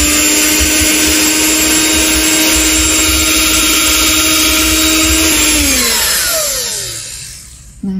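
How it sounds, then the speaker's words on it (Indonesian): An electric hand mixer beats pumpkin pukis batter with a loud, close, steady whir. The pitch falls and the sound fades as the mixer winds down at the end. "Kita mixer lagi sebentar."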